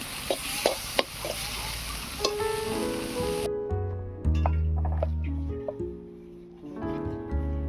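Drumstick flowers and greens fry in oil with a dense, loud sizzle and a few stirring knocks, then the sizzle cuts off and tonal notes follow.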